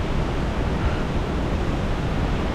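A waterfall near Medellin, Colombia, roaring up close as a dense, steady broadband rush of falling water, loud and unbroken.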